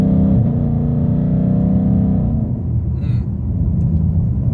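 A Ford Mustang engine rumbles loudly up close as the driver shifts manually, with a low droning tone that drops in pitch partway through as a gear changes, then steadies into a lower growl.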